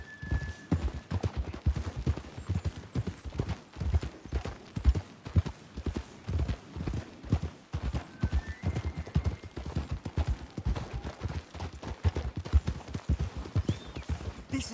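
Rapid hooves clip-clop steadily as horses gallop in the video game Red Dead Redemption 2, with a continuous rumbling rhythm and occasional faint whinnies in the background.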